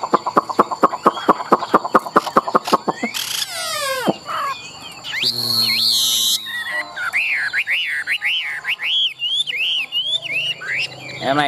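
A tame Chinese hwamei songbird in a cage sings loud, varied phrases: rapid repeated notes, then sweeping whistles and a run of looping, rolling calls.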